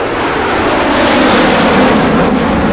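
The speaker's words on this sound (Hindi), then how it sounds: "और ठीक 1 घंटे बाद राम का विमान चीन की ओर रवाना हुआ।" Airplane departing as a sound effect in a spoken story, a loud, steady roar of jet engine noise filling the whole stretch with no voices.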